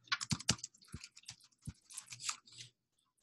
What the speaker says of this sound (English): so you just type in the category, brewery,